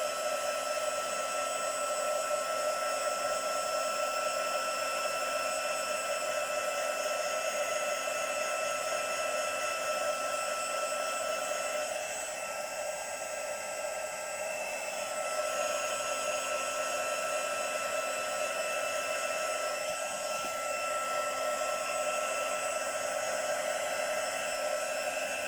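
A heat tool blows steadily, drying modeling paste on a floral die-cut craft tag; a continuous loud whirring hiss with a whine runs alone throughout, dipping slightly midway.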